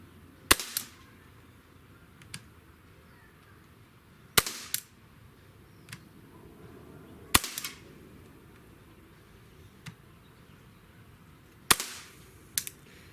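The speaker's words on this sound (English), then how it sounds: "We're going to shoot 5 shots, and we'll just see how this thing groups" A Glock 17 Gen5 pistol fires five sharp, loud shots spaced a few seconds apart, each crack followed by a short echo and a faint clink.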